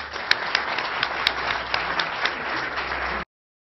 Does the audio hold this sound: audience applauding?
yes